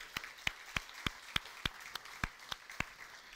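A church congregation clapping in a steady, even rhythm, about three claps per second, each sharp and crisp, sounding somewhat distant in the room, with no voices over it.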